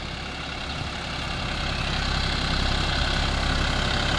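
John Deere 5050D tractor running a rotavator in a field, its diesel engine a steady, dense rumble that grows slightly louder over the few seconds, with no voices.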